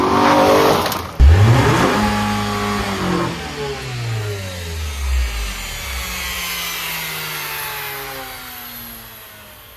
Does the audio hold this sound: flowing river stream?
no